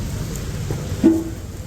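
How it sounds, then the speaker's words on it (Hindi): Rain falls steadily at an outdoor market during shopping, a continuous soft hiss of drops on surfaces with low rumbling underneath and a brief tonal squeak near the middle. "बारिश इतनी हो रही है अभी, और हम बारिश में भीग रहे हैं"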